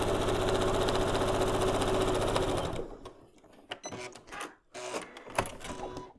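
A sewing machine stitches a quarter-inch seam along quilt fabric, a fast steady mechanical chatter for a few seconds that stops abruptly, followed by quieter handling clicks and rustles.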